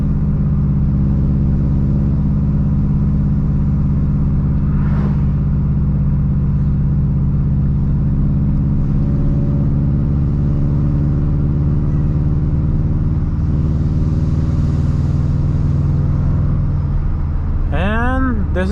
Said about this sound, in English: you can hear the turbo suck in that air